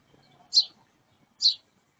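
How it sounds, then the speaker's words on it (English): On a town street, a bird gives two bright, high chirps about a second apart against near silence. "You can hear the birds chirping."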